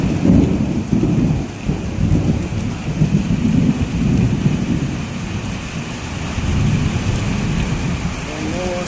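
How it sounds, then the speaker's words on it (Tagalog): Deep thunder rumbles through steady heavy rain in the Philippines, rolling low and loud for several seconds while the downpour hisses on. "Ayun, kulog."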